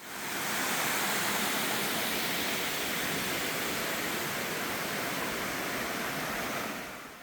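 An urban waterfall on a Gwacheon trekking trail pours in a steady, dense rush of falling water, loud and unbroken, fading in and out at the edges.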